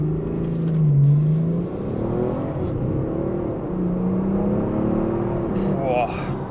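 A BMW 435d with 440 horsepower and 700 pound-feet of torque accelerating hard, heard from inside the car as a steady engine drone that rises in pitch, with a voice over it.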